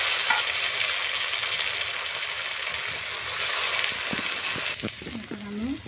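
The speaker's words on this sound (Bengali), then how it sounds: "ওই তেলের মধ্যে আমি ডালগুলো দিয়ে দেবো।" Lentils (dal) hit hot oil in a pan and sizzle with a loud, steady hiss that fades slightly near the end, when a voice speaks briefly.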